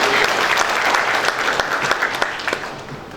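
Audience applause at an international mediation summit in Dhaka, a dense, steady clapping from a large crowd that fills the hall, holding loud throughout before tapering slightly at the end.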